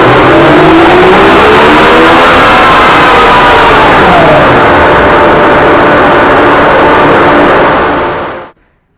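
A 2019 Yamaha MT09 SP motorcycle with an Akrapovic exhaust revs hard on a dyno, a loud sustained engine roar climbing through the gears before cutting off abruptly near the end.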